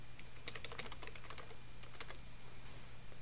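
Quiet keystrokes on a computer keyboard as a password is entered, a short burst of light taps followed by a couple more after a pause.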